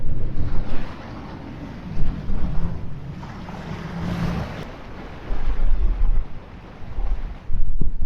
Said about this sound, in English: The water's bubbling a little bit.